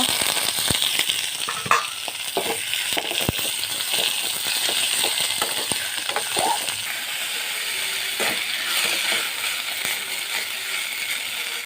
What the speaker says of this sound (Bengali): খাটি সর্ষের তেল দিয়ে দিতেছি এগুলো ভালোভাবে ভেজে নিন